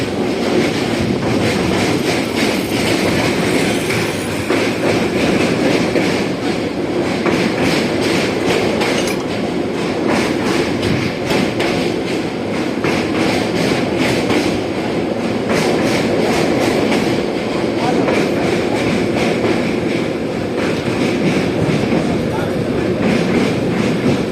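Parasuram Express passenger train with 2015-built coaches running on rails, a loud continuous rumble with steady rhythmic clickety-clack of wheels over rail joints and occasional squeal, sustained throughout.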